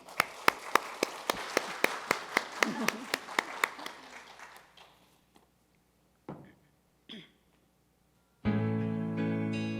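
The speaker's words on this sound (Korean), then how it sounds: "우리 함께 우리 찬양할 때 우리 박수로 환영해 주시기 바랍니다." A congregation at a Sunday worship service claps in a steady rhythm for about four seconds, the beats gradually thinning and fading before a few scattered sounds and then music begin.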